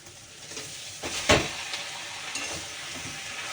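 Pasta stirred in a hot pan, a soft continuous sizzle with a few louder scraping stirs and a brief bright hiss burst, close and without speech.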